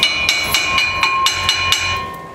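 A hammer strikes a car brake part on a GT86 during a brake upgrade, about nine sharp metallic clangs in an even, fairly quick rhythm, close and loud, with a ringing tone sustained between blows.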